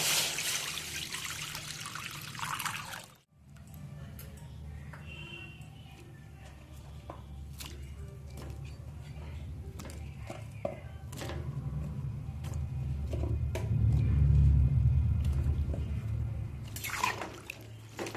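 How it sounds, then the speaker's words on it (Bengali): Potato and cauliflower simmer in lightly salted water in a pot, giving a continuous low bubbling and trickling wash of water that swells slightly toward the end. "প্রথমে আমি আলু ফুলকপিটা সামান্য নুন দিয়ে বয়েল করে নেব"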